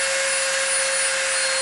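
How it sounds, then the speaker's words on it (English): A Dremel rotary tool whirs at high speed as it rounds off the edge of an EVA foam glaive blade, a steady piercing whine close up with no talking. "And this one, we're going to Dremel the heck out of."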